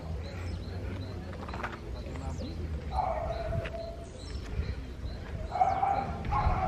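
Small dogs bark on a large residential lot, with a few short barks at a distance through background noise while people talk.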